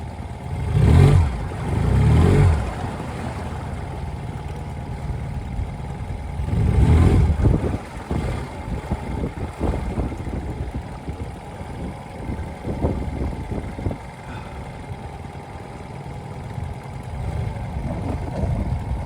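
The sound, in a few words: boat motor on Newport Seascape 9' dinghy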